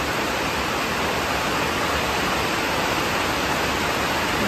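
Water gushes steadily through a drain into a building, a dense, unbroken rush that stays loud and close the whole time with no voices over it.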